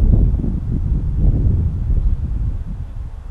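Wind gusts buffet the microphone at an outdoor college soccer match on a spring field, a loud continuous low rumble that swells and eases throughout with no clear voices.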